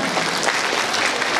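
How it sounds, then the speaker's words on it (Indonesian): An audience at a school farewell ceremony for ninth graders claps in dense, steady applause, many hands together at close range with no pauses. "Boleh tepuk tangan."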